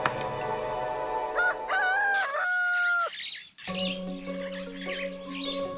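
A rooster crows loudly once, its call rising and breaking, followed by softer clucking and chirping nearby.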